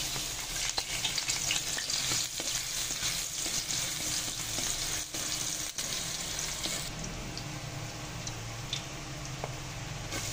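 Chopped garlic frying in a little oil in a pan, a steady, close, dense sizzle running throughout with occasional stirring scrapes and light ticks.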